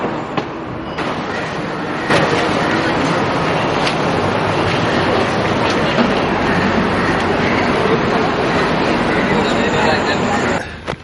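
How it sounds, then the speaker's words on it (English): A train arrives at a railway station in Sri Lanka, giving a steady loud rumble of wheels and carriages with faint rhythmic clacks, heard under a voice talking throughout. "The train from Palay arrived just now."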